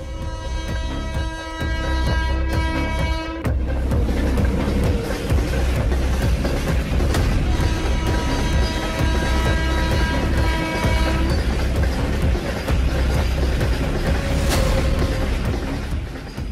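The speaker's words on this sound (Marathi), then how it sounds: "कोळशानं भरलेली एक मालगाडी या व्हिडिओमध्ये बघायला मिळते" A long freight train loaded with coal rolls past in a steady, continuous low rumble with layered rail noise, staying loud and close throughout and unbroken by any talk.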